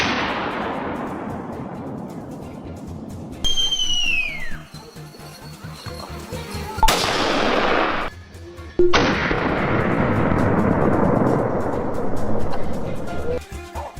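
A gunshot cracks during a wild boar hunt on a wooded cliffside and booms loudly, with echoes rolling off the land. Abrupt loud bursts and cuts break up a continuous rumbling roar, and no voices are heard.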